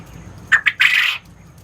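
Birds in an incubator give a few sharp squawks close by: two quick calls followed by a longer harsh cry, all within about a second, then quiet.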